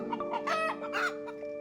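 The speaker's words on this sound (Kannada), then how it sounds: "ಹೋಗ್ಬೇಕಾದ್ರೆ ಕೋಳಿ ಎಲ್ಲೋ ಕೂಗ್ತಿದ್ಯ ಅಂತ ನೋಡ್ತಿದ್ದೀನಿ" A rooster crows once, a clear drawn-out call standing alone and fairly close, with no voices over it.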